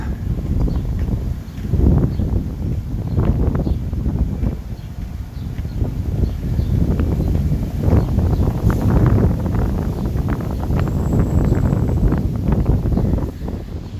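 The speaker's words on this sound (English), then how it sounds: "that wind, that breeze is beautiful" Wind blowing outdoors across a microphone in Northeast Ohio, a steady broadband rush with gusty swells that stays fairly loud and continuous throughout, with no talking.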